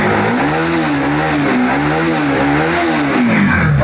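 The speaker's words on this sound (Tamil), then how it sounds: "இப்போ சின்ன செல் போட்டால் வண்டியோட பிஎஸ் 4ஓட சவுண்டு பார்த்தீங்கன்னா எவ்வளோ சூப்பராக இருக்குது." A 2020 Bajaj Pulsar NS 200 BS4 motorcycle engine revs up and down in repeated swells, close and loud, its throaty tone rising and falling several times.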